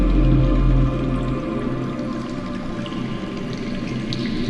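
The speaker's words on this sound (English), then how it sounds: "That's water. I hear water. From underground." Steady broadband rushing of water flowing underground in a Game of Thrones video game, a continuous wash with a heavier low rumble in the first second, then an even level with no voices.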